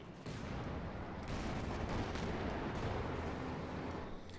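Jackson tank destroyer gunfire in a Company of Heroes 2 battle, dense rumbling barrage of booms and cracks that runs continuously, with distant blasts layered beneath.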